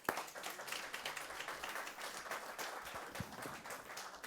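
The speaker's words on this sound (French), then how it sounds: "Applaudissements." Applause from an audience at a French talk on Ishmael and Isaac, a steady patter of many hands clapping for about four seconds, moderately loud with no voices over it.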